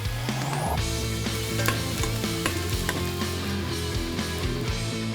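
Shrimp being par cooked and stirred in an Instant Pot, a steady close sizzle with a spoon scraping and clinking against the pot throughout.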